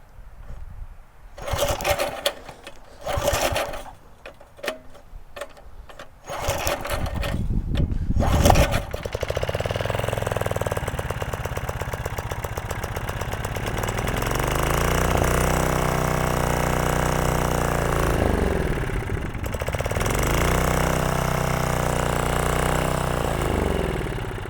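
A Briggs engine on a 1350 watt generator is cranked with several short, sputtering pulls, then catches and runs steadily and loudly, its pitch dipping and recovering a couple of times.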